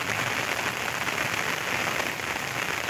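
Sudden unseasonal heavy rain pours down in a cloudburst, a dense, steady roar of water hitting surfaces that stays loud and constant throughout with no voices.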